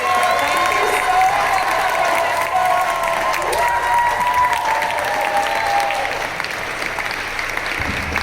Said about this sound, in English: A last round of applause for Marina and Amanda.